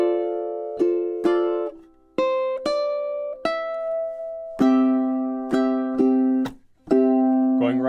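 A ukulele plays a piece, pre-chorus measures 14 to 16: bright plucked notes and chords in a rhythmic pattern, close and clean, solo instrument without talking.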